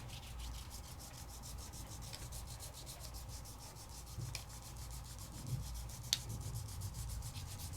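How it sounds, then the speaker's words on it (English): Luster wax rubbed onto a craft surface: a steady, fast back-and-forth rubbing swish, quiet and close, with a couple of faint taps, no talk. "I'm going to do half of it in some luster wax and leave the other half alone"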